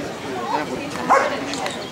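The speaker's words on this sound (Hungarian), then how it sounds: "Most a kutya Zsoltitól nagyon szépen kérte a labdát" A police detection dog gives short yipping, whining barks asking for its ball, a couple of close bursts mixed with people talking nearby.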